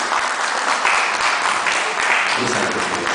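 An audience at a Bukharian community event claps in sustained, dense applause, loud and continuous throughout, with no break.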